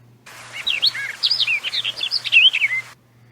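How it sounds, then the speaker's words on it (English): Birds chirp in quick, bright bursts for a few seconds, a lively string of tweets up close with no other sounds. "It's birds chirping."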